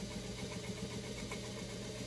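A White 305 vintage sewing machine runs steadily under foot-pedal control, a continuous even motor whir with a fast regular stitching rhythm, moderately quiet and uninterrupted.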